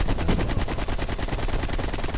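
Rapid automatic gunfire from Call of Duty Black Ops, a dense, continuous burst of loud shots in steady rhythm, dominating the whole moment with no talking over it.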